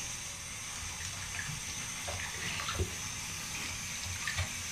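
Water runs steadily from a tap or shower while a chihuahua is bathed, a constant moderate hiss with faint knocks and splashes mixed in, no talking.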